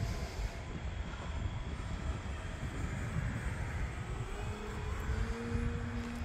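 A radio-controlled model airplane flies in a light breeze, its engine a faint, distant drone with a thin rising and falling whine carried over steady wind noise.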